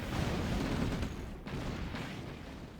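Anti-aircraft gun in the OpenRA Red Alert strategy game firing at helicopters, a dense, continuous rattle of rapid shots and booming blasts that stays loud and steady throughout.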